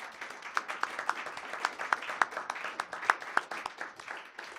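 Audience applause for a band at a live music session, a small crowd clapping steadily with sharp individual claps standing out, moderately close and fairly quiet, with no talking over it.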